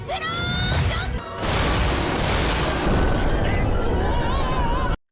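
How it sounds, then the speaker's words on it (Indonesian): A huge magic explosion in an anime roars as a loud, sustained blast with deep rumble. It dips briefly near one second, then surges again and cuts off abruptly at about five seconds. "Memang ledakan tersebut sangat menggelegar"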